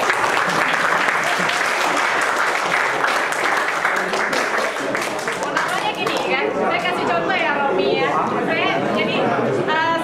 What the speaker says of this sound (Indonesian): Kasih aplaus buat Romi.